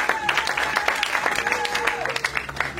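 A church congregation applauding and acclaiming the Lord during a French-language sermon, scattered clapping with voices calling out over it at moderate level.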